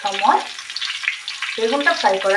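Eggplant frying in a pan, a steady soft sizzle running throughout, with brief tonal clattering near the start and end.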